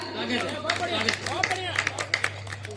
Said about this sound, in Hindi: एक बार तालियों से मुझे आदेश दीजिएगा